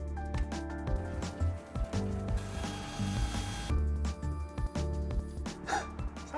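A skylight fixing kit being trimmed down during a Dometic Mini Heki skylight install in a Mercedes Sprinter van conversion: close, uneven rasping and ratcheting cuts in short bursts, with no talk.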